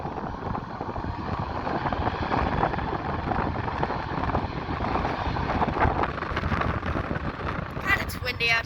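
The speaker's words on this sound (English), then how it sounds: "watching airplanes take off" A steady, loud airplane engine roar carries throughout as a jet takes off at Founders Plaza, mixed with gusty wind buffeting the microphone outdoors.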